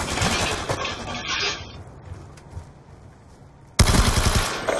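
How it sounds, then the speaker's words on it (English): Death Machine minigun in Call of Duty Black Ops 2 firing in sustained loud bursts, a dense roar at the start that fades, then a second abrupt, loud burst near the end, heard alone without talk. "Friendly death machine spinning up."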